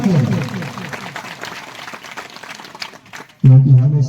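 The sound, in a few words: audience applauding loudly to welcome volunteers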